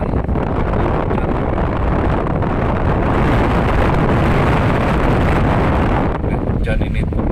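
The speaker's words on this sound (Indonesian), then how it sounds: "angin kencang, hujan." Strong wind and rain blow through the night, a loud, dense roar of gusts and driving rain with heavy microphone buffeting throughout.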